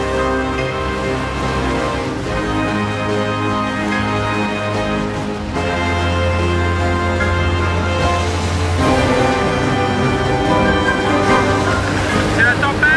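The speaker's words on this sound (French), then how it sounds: "C'est la tempête, il y a 110 km de vent à peu près." Loud, continuous roar of storm wind at about 110 km/h and crashing ocean waves, a broad rushing wash with deep rumbling surges and gusts, near and unbroken throughout.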